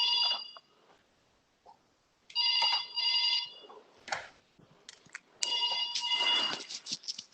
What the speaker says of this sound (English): If someone phone is ringing